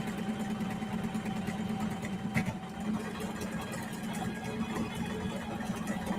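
A sewing machine runs steadily while stitching a clear vinyl project bag, giving a continuous mid-pitched motor hum with rapid needle ticking and one brief louder clack partway through.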